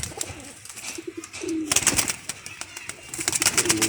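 Domestic pigeons, a fancy pair kept at a pigeon club, coo in soft repeated rolling calls close by, with sharper chirps and rustling bursts in between; no speech.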